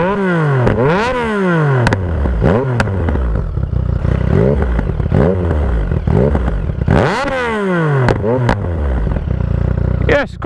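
A motorcycle fitted with a modified exhaust baffle revs repeatedly, loud and close, with rising and falling engine tones sweeping up under throttle blips and several stronger revs toward the end.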